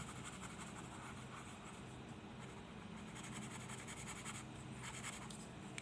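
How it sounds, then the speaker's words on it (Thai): A light pink colored pencil rubs steadily across paper, shading over areas already colored red, in a continuous close scratchy hiss with no talk. "ต่อมาก็ใช้สีชมพูอ่อนนะครับมาระบายให้ทั่วเลย ระบายทับ ตรงที่เราระบายสีแดงเอาไว้ด้วย"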